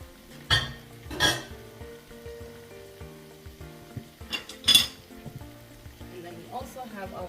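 Green beans and mushrooms for a veggie stew stirred in a pan, a soft sizzle under several sharp scraping and clinking utensil strokes against the pot, close and intermittent.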